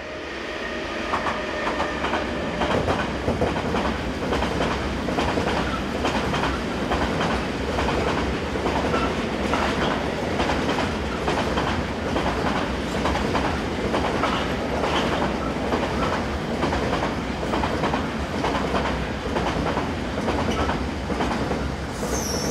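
Locomotive 185594, hired to HSL Logistic, hauls a train of tank wagons along the Bremen line, a steady close rumble with rhythmic clickety-clack of wheels over rail joints and faint squeals, continuous throughout.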